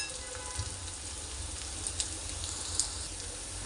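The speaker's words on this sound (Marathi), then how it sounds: "ते बघा असं जिरं सुद्धा आपण याच्यात टाकलं आणि छान असं परतून घेणार आहोत." Cumin seeds are sautéed in a pan with a steady, even sizzle and faint crackle that runs the whole time, with a few soft stirring clicks and no talking.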